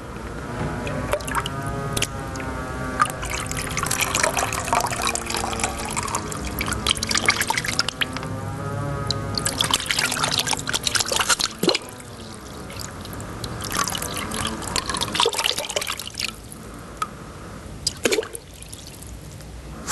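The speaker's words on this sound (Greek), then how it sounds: "Φανταστείτε τα ψαράκια που κινούνται στο νερό, κάνουν τις βουτιές." Water recorded in a studio, suggesting small fish moving and diving: continuous drips, trickles and squishy liquid splashes, fairly close and steady throughout, with no voices.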